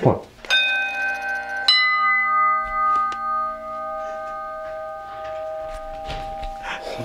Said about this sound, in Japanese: 本当だ、チャイムだ。